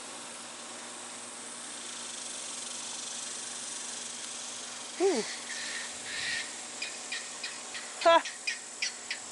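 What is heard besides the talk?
cicadas buzzing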